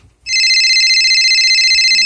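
A telephone rings indoors, a loud electronic trilling tone that starts abruptly after a brief quiet moment and holds steady and continuous to the end, heard alone without voices.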